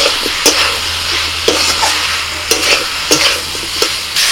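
Vegetables tossed into spice paste frying in a pan, loud close sizzling with repeated rhythmic scrapes and clatters of a spoon stirring roughly once a second, no talking.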